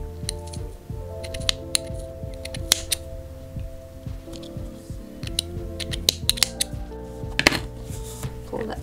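Scissors snip crochet t-shirt yarn during a laptop sleeve project, a few close, crisp cuts amid light clicking and handling noises, with a person talking quietly throughout.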